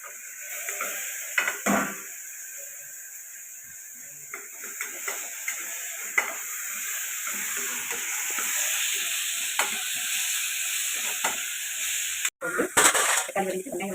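Onions and tomatoes sautéing in a pan for chicken gravy give a steady close sizzle, broken by occasional spoon scrapes and clinks against the pan, while someone talks over the cooking.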